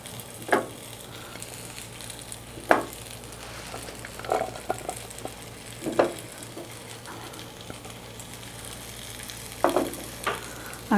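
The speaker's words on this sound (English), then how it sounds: "You hear them sizzle?" Frozen pot stickers frying on a smokeless tabletop grill give a steady low sizzle, broken by a few louder crackling bursts spaced a couple of seconds apart, close by with no talking.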